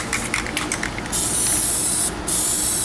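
Aerosol spraying of gunmetal Plasti Dip onto car wheels, a close, loud hiss in short pulses at first, then long continuous sprays broken by a brief pause.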